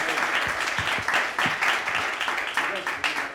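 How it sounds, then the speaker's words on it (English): A conference audience at a 2018 Geekend talk on AI and machine learning claps steadily throughout, a dense, close round of applause with individual claps standing out. "Round of applause, please."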